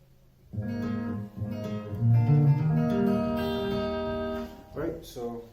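A guitar plays the second bar of a song, a short fingerpicked phrase of ringing notes with thumb bass, heard close and alone before a brief voice at the end.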